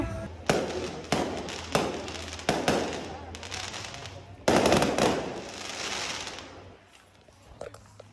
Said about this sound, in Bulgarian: Тук специално на моите момичета съм им поръчала и заря за нашата вечеря.